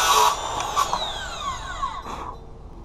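Circular saw running along a homemade DIY track saw guide, a close, loud whine that winds down in pitch as the blade spins to a stop.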